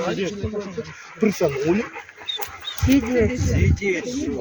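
Dogs at a kennel club Halloween socialization gathering, with yaps and barks from several animals close by, mixed in with people talking over them throughout.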